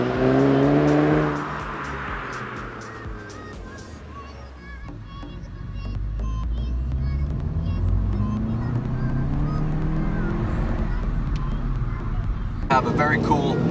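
A 2017 Volkswagen Golf GTI with a 230-horsepower engine accelerates, its engine note rising steadily in pitch and holding loud and close after a brief opening of talk.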